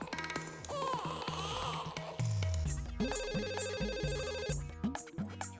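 A ringing intercom telephone in a shop, a synthesized melodic ringtone with repeating tonal phrases and a steady pulsing pattern, loud and close throughout.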